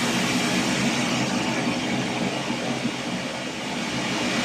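Test noise signal from Smaart v7 measurement software, a loud, steady broadband hiss that plays continuously with no talking.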